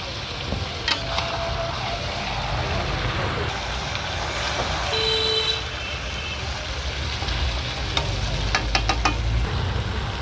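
Meat with cumin paste frying in a pan, a steady broad sizzle running throughout with occasional scraping and clinking of a spoon, moderately loud and close.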